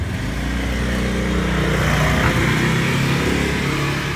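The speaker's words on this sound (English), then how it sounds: "We got some scooters, man." Scooters and motorbikes ride past on a street near Da Nang, Vietnam, their engines a steady, loud, close drone that swells slightly midway, with no talk over the traffic.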